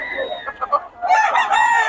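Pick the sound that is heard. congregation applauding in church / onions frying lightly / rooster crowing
rooster crowing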